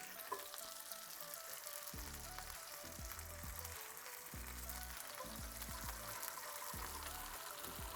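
Chicken frying in a cast iron skillet, a faint, steady crackling sizzle with soft intermittent low thuds of handling in the background.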